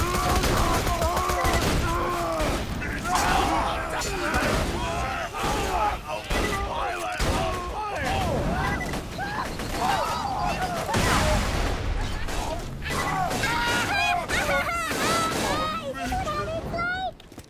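Grenade blasts and rapid gunfire clatter in a Borderlands 2 firefight, a dense, busy stream of shots and bursts that runs continuously, mixed with other game effects.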